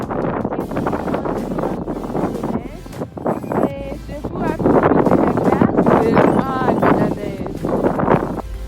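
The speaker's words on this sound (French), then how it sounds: "Il fait très froid et venteux ici." Winter wind sweeps across frozen Lake Baikal at about minus 20 degrees, buffeting the microphone with a low, continuous rumble. A person talks throughout over the gusts.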